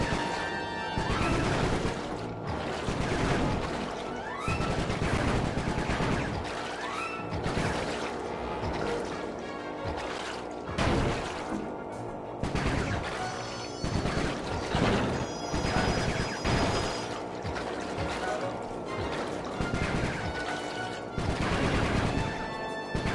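Sustained video game gunfire and crashing impacts in Sly Cooper 3, a long loud stretch of rapid repeated bursts layered with music-like tones and effects, no pauses.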